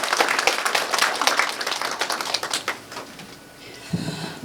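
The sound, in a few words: audience applause at party convention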